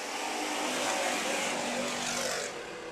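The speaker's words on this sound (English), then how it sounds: "Restart, full restart, and we're racing." Race cars at the 2018 Budweiser Nationals heat race roar back to green on a full restart, a dense, loud wall of engine noise sustained throughout and easing slightly near the end.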